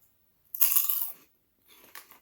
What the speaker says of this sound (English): I hope the camera was able to pick up that crunch. I'm going to do that again so you can hear that crunch